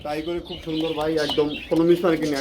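Pigeons cooing close by at a wholesale pigeon sale, a run of soft, warbling, throaty coos that rise and fall in quick succession.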